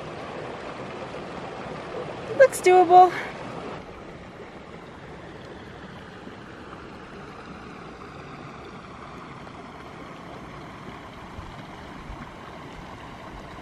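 A mountain creek at a wide crossing rushes in a steady broad roar, with a brief spoken remark near the start over the water.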